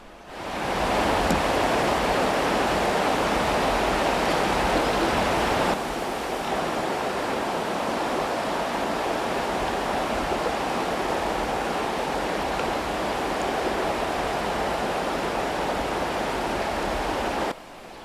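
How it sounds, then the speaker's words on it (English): Rushing floodwater courses steadily as a broad, dense roar, loud and close, with no voices, as water rises fast during a flood. "began making my way through the rushing water"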